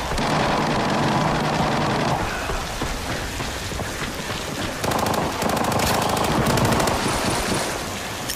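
Bursts of rapid gunfire in the video game Arena Breakout crackle in two long volleys separated by a short lull, over a steady rain-like hiss.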